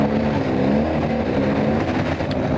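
A BMW GSA boxer-twin motorcycle engine runs steadily up close, a low throbbing drone with a gritty, pulsing texture that holds at an even level throughout.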